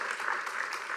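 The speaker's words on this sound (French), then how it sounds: "on l'applaudit" An audience at a live French quiz event claps in a brief, dense burst of applause, moderately loud and steady for about a second.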